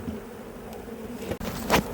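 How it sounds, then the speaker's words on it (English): Loose honey bees buzz around hive frames during a rainy hive inspection after a swarm, a steady close insect drone with a louder burst of buzzing near the end. "we've got a few loose bees on these frames"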